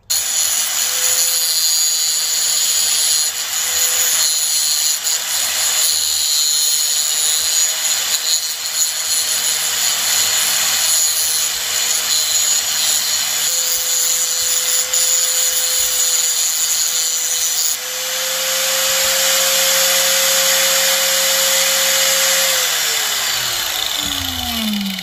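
A power tool whines steadily while notching a fish mouth into a steel upper link bar for a bagged Toyota pickup, a loud continuous cut that dips briefly and then winds down near the end.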